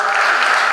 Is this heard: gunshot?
no